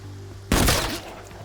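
A single loud, sharp Desert Eagle pistol shot in an extraction shooter video game, a heavy boom with a short decaying tail, preceded by a low background hum.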